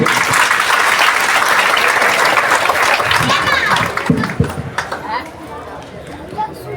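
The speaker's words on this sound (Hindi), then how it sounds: "सब जोरदार तालियों से स्वागत करिए" Loud applause from a political rally crowd welcomes Prashant Kishor to the stage, roaring for several seconds before thinning into scattered claps, with chatter and a voice emerging as it fades.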